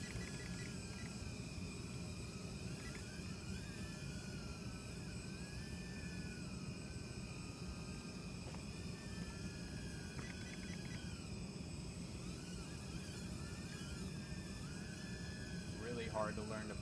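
An FQ777-124 pocket drone flies indoors, its tiny motors giving a steady, high-pitched whirring buzz that holds for the whole stretch at close range, with small shifts in pitch as it maneuvers.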